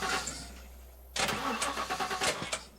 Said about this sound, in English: That's how long it takes to start the car.